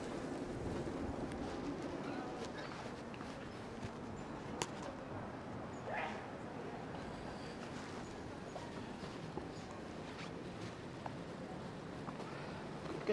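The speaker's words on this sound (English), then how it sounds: "it's actually pretty fucking windy right now" Wind buffets a microphone outdoors on a city street walk in Williamsburg, New York, a constant loud rushing rumble with occasional gusts and bumps, and someone talking beneath it.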